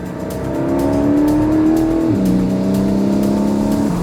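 A Porsche 718 GTS with a naturally aspirated engine downshifts while driving through bends, a loud steady engine drone whose pitch drops sharply midway as the gear changes, then settles lower, close and with no talk.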